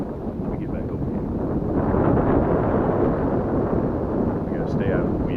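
Wind gusting across an open lake while crappie fishing from a boat, a steady loud rushing buffet on the microphone with brief faint sounds near the end.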